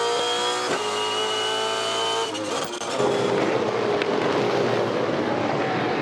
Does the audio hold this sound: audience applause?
no